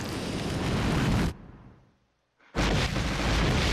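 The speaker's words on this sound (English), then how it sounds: "Oh no, he activated the lion cannon!" In the video game One Piece: Unlimited Cruise, a loud roaring blast of the lion's roar cannon rumbles, cuts abruptly to near silence, then another powerful boom erupts, like a heavy cannon firing twice.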